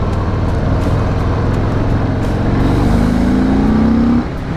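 A 2018 Harley-Davidson Breakout 114 motorcycle rumbles close by, its deep engine note rising as the throttle is twisted partway, swelling to a louder rev before dropping off at the end, with no talking.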